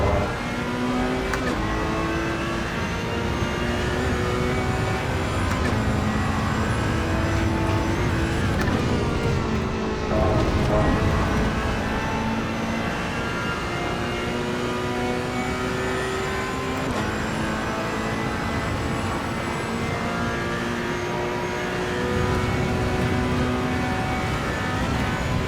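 A Ferrari 488 Challenge Evo racing round the Nurburgring in the sim game AC Evo wails loudly up and down through the gears. Its engine note climbs, drops on the downshifts and surges again, with no one talking.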